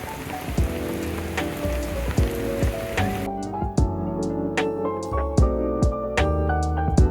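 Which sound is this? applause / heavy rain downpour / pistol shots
heavy rain downpour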